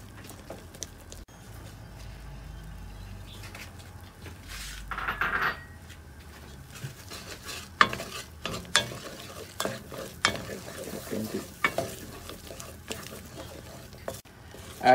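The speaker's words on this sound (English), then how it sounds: "continue to stir it for another 3 to 4 minutes" Thick mung bean paste with sugar and salt is stirred in a pot, a spoon knocking and scraping the sides in irregular close strokes over a faint low simmer; no voices.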